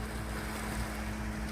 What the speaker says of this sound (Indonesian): saat ini saya berada di pinggir pantai. Di belakang saya ini pinggir kapal